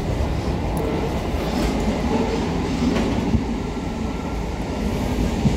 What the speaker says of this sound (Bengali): ট্রেনে উঠে বসলাম, ট্রেন ছেড়েও দিল